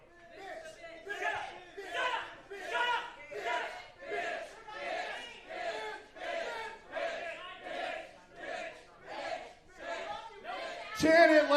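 Wrestling crowd at an indoor show chanting in a steady rhythmic cadence, about a dozen repeated shouted phrases, ending with a sharp loud burst.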